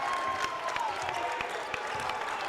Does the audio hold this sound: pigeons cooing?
no